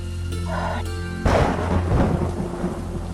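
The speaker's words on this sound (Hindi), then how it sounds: "बाहर तो बहुत तेज बारिश हो रही है। जी, और बिजली भी बहुत कड़क रही है।" A loud crack of thunder bursts in after a quieter stretch, followed by a long rumbling roll over steady heavy rain.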